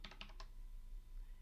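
Quick burst of typing code on a computer keyboard, four or five crisp close keystrokes in the first half-second, then near silence with faint room hum.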